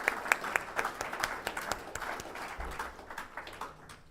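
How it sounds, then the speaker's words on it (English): An audience applauds a guest called up to the stage, a sustained patter of many hands clapping with sharp individual claps standing out, fairly distant and without talk. "Big round of applause for Richard."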